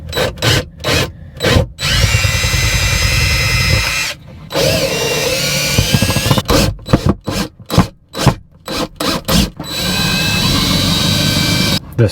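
A power drill backs out screws inside an Airstream camper near the door, giving repeated close, loud whirring bursts with short pauses between them and scraping and handling noises in the gaps.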